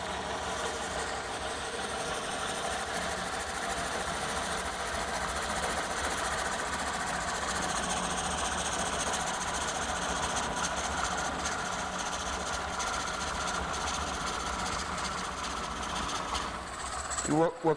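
A lathe turns an Easy Core coring cutter through a workpiece held by the tailstock, giving a steady, continuous machine drone with a mechanical whine and chattering texture, close up and loud, that winds down near the end.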